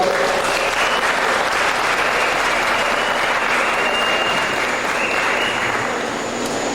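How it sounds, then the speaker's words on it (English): Sustained applause from a large audience at a 25th anniversary class reunion, steady and loud throughout, with dense clapping filling the whole stretch. "another round of applause"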